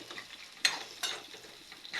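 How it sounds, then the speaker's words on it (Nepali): Onions being stir-fried in a pan until reddish, a faint soft sizzle with two sharp spatula scrapes against the pan and a third starting at the end. "यसलाई रातो हुन्जेलसम्म भुट्नुपर्छ"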